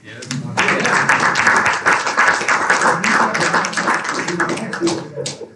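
An audience at an evening tech talk gives a round of applause, a dense, lively burst of many hands clapping that swells quickly, holds and tapers off, with some voices mixed in among the crowd.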